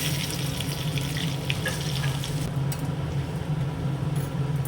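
Garlic sizzling in hot ghee for tarka, a steady close frying hiss with light bubbling crackle throughout.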